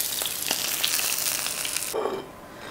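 Sardines fry in hot oil with a steady, dense sizzle and crackle that runs close and loud, then drops suddenly to a quieter hiss near the end.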